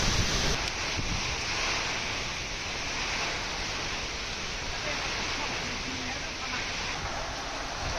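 Cyclonic wind and heavy rain lash the Kallakurichi area of Tamil Nadu, a steady, loud, broadband roar of gusting wind and pouring rain that never lets up.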